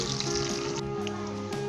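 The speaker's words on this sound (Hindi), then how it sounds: "इसके बाद हम इसके अंदर कीमा शामिल करेंगे और सब्ज़ मिर्चें शामिल करेंगे। जस्ट 1 से 2 मिनट के लिए हम इसे फ्राई करेंगे।" Beef keema and green chillies sizzle in a hot pan, a steady, close frying hiss that holds evenly through a short moment.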